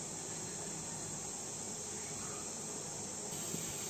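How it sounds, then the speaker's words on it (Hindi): Steady, dense sizzling hiss of cumin and garlic frying in hot ghee, continuous and close throughout, with a faint crackle near the end. "इसमें डालेगा जीरा और लहसुन, हल्का सा इसे चटकने देते हैं गर्म होने के बाद।"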